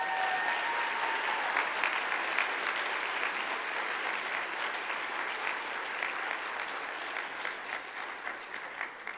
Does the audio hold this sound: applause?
yes